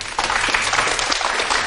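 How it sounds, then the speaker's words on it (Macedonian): Audience at a primary school event in Skopje applauding students invited up to the podium: steady, dense clapping from many hands that fills the whole stretch at an even, moderately loud level. "Еден аплауз за нив."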